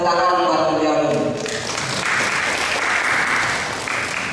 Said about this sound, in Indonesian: Tepuk tangan buat beliau dulu.